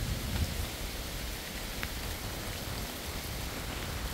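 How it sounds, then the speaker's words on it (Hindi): Heavy rain pours down steadily at a lakeside resort in Karnataka, a dense, even hiss of falling water that holds without a break throughout. "आप देख सकते हैं अभी भी फुल बारिश हो रही है"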